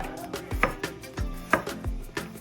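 A knife slices a garlic clove into thin slivers on a cutting board, a series of close, crisp knife strokes and board taps in an uneven rhythm, with no talking.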